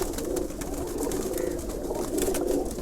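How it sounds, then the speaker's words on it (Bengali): Soft, low cooing from a female racing pigeon kept in a loft, repeating in gentle rolling phrases that sit close but fairly quiet over faint background noise. "এই যে একটা কবুতর"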